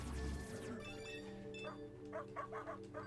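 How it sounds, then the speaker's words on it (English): A corgi barks in the ProtoCorgi video game, a run of short, bright yelps over layered game music and electronic tones, moderately loud and close. "Bark!"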